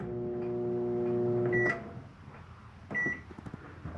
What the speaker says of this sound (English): Self-explanatory microwave.